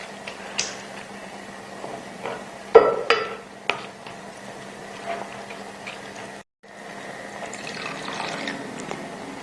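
Meat stock (yakhni) is poured into a pot of beef pulao rice, giving a splashing, trickling liquid sound with clinks and occasional drips, close and moderately loud.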